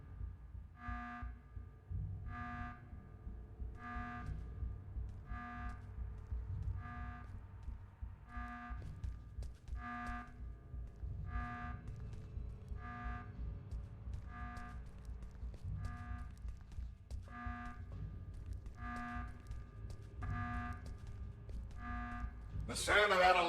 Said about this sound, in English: The sound of that alarm echoing through these hallways.